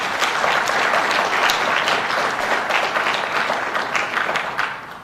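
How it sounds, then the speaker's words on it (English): A crowd at a state government press event gives the New York State Police a round of applause, a loud, sustained burst of many hands clapping that tapers off at the end. "Why don't we give them a round of applause?"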